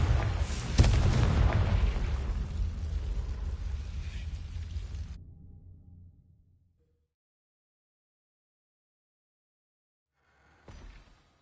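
A Confringo blasting spell explodes in Hogwarts Legacy with a loud, deep boom that rumbles and fades over several seconds into silence, followed by a brief faint burst of sound.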